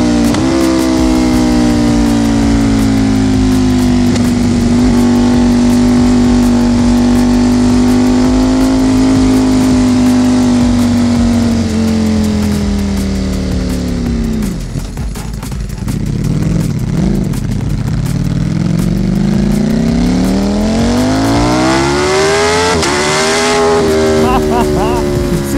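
Ducati Panigale V4 SP motorcycle accelerating on a German autobahn, a loud, steady engine whine that rises in pitch, dips briefly as the rider shifts gear around the midpoint, then climbs again to a high scream, with wind noise throughout.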